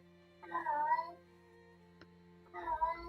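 A cat meows twice indoors, each call a rising, drawn-out cry separated by about two seconds of quiet, faint and somewhat distant with a soft click between them.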